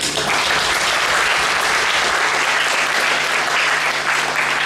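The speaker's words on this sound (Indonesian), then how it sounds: "Tepuk tangan" An audience at a Maulid Nabi and Hari Santri Nasional gathering applauds in a thick, continuous wash of clapping that holds at an even loudness from start to finish.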